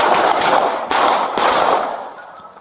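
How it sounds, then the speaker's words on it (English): Close, loud gunfire in an NYPD officer's point-blank exchange of shots with an armed suspect, several sharp reports in quick succession followed by a decaying roar. "Shots fired, Central, shots fired!"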